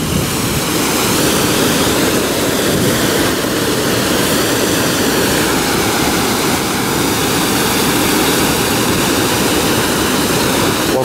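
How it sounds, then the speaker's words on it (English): Water rushes loud and steady near the canal at the Kelpies in Falkirk, Scotland, a continuous roaring wash that never lets up, with no talking. "Love the sound of running water."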